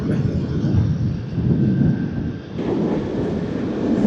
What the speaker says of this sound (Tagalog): Talagang lamig at simoy ng hangin yung humahampas sa'yo.